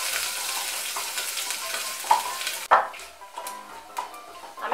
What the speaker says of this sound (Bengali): গরম হয়ে গিয়েছে, এর মধ্যে আমি তেজপাতা, শুকনো লঙ্কা আর পাঁচফোড়নটা দিয়ে দিচ্ছি।